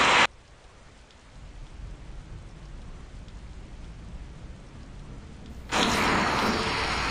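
Steady rain falls in a dense, even hiss that stays constant throughout, with a louder, brighter wash of rain noise at the very start and end. No voices are heard.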